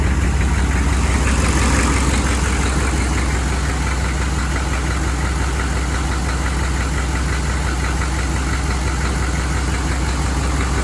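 6.5L turbo diesel engine idling after a remanufactured injection pump replacement and timing, heard up close under the hood as a loud, steady, rhythmic clatter throughout.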